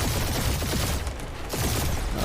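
Rapid gunfire in a dogfight from the Guardians of the Galaxy video game, a loud, dense barrage of bursts running nearly continuously with a brief dip in the middle.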